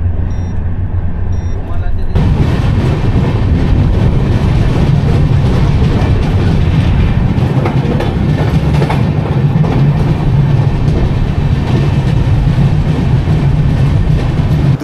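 Howrah–Puri Superfast Express train running at about 130 km/h, a loud, steady rumble of wheels on rails with rhythmic clatter heard from inside the carriage, continuous throughout.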